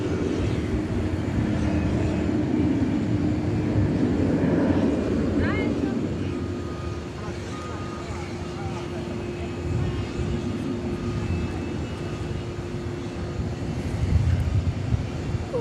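An airliner rolls into position and takes off at DFW Airport, a broad, steady jet engine roar that holds loud throughout, with a sustained low drone and a few brief higher whines.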